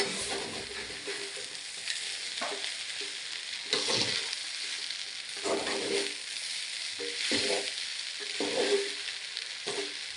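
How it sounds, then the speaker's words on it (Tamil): Crumbled idli frying in a small pan for idli upma, with a steady sizzle and repeated scraping stirs of a spoon at an even rhythm. "உதிர்த்து வச்ச இட்லியை போட்டாச்சு இனி அதை கிண்டணும்"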